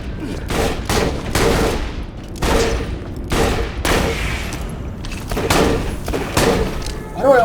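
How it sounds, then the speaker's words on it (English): Gunshots in a video game ring out as a series of sharp, heavy bangs at irregular intervals, some in quick doublets, loud and close and mixed with thuds. "Why do I always fire an extra shot?"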